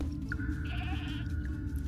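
A goat in the survival game Mr. Prepper gives one short bleat in the middle of the clip over a low steady game ambience.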